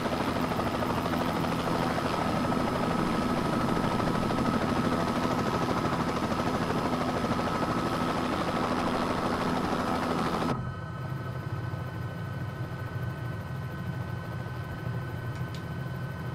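Bell 206B3 helicopter engine and rotor in Microsoft Flight Simulator produce a loud, continuous turbine whine and rotor drone, with the tone dropping and thinning partway through.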